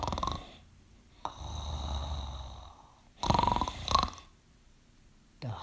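A storyteller imitates a wolf snoring very loudly, making two long, rasping, drawn-out snores split by a short pause, close and alone with no other voices.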